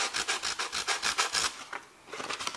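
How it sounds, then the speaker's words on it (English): Sandpaper rubbing back and forth over encaustic wax in a garage, a steady run of rhythmic scratchy strokes, close and fairly loud, pausing briefly before resuming. "I'm gonna grab some sandpaper and see if I can lift that off"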